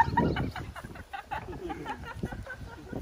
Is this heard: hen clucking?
yes